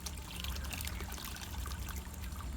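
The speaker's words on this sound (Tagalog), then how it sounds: "Ayan, pinalitan ko ng tubig." Fresh water pours into the bathing water for baby animals, a close, continuous splashing trickle with no talk over it.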